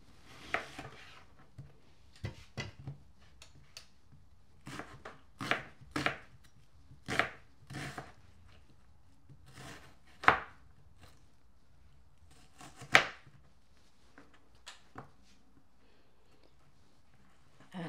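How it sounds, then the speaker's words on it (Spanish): A knife chopping onion on a board in a home kitchen, sharp distinct taps in irregular bursts, close and clear against a quiet background, with no talking. "ahora voy a picar mi cebolla."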